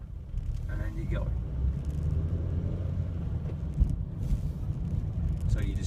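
Car interior during a driving test, with steady low road and engine rumble throughout and a voice talking over it.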